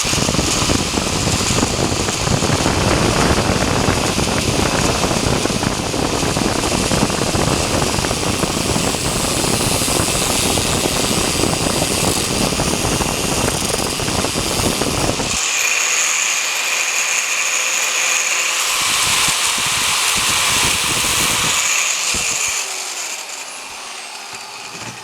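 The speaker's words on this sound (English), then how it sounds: "I like doing this with the grinder." A grinder cuts through oil filter lines for an oil filter relocation kit on a 4WD Daytona, a loud, sustained, harsh whine for about fifteen seconds that shifts to a higher, thinner screech before tapering off.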